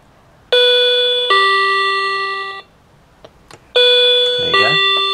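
An electronic doorbell chime set off by shorting the push button terminals rings twice with clear, sustained tonal notes, separated by a short gap with faint handling clicks and rustle, close and loud.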